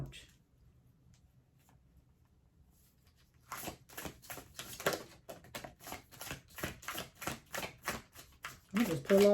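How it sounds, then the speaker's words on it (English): Large oversized oracle-style reading cards being shuffled in quick, rhythmic ruffling bursts after a few seconds of near silence, with a brief faint voice near the end. "it's just the way I'm shuffling, because these cards are huge"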